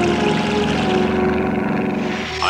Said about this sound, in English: I got to stop that seaplane.